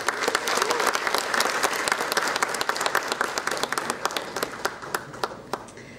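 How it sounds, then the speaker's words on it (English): Enthusiastic crowd applause for graduating students at a 2023 college graduation ceremony, steady, dense clapping filling a hall, gradually thinning toward the end. "Can we all give a round of applause for our graduating students?"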